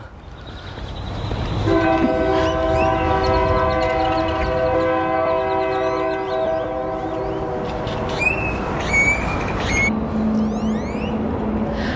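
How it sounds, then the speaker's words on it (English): A train rumbles past close by while its horn sounds a long, sustained multi-tone blast over the steady roar of the cars. "Oh, I can see the train."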